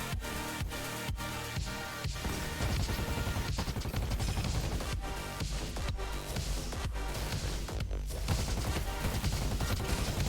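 Rapid, loud gunfire from a heavy-recoil weapon in the video game The Finals, with dense bursts of shots cracking continuously across the whole stretch.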